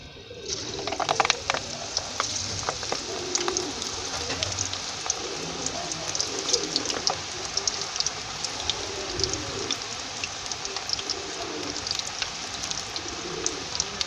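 Lachedar pakoras frying in hot ghee give a dense, steady crackle and sizzle that runs unbroken for the whole stretch, fairly close and with no talking over it.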